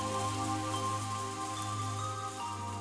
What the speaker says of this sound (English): As we listen to the sound of rain